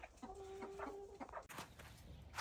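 A hen clucking in a series of short, close clucks with a sustained tonal call, heard alone in a farmyard setting with light background rustle.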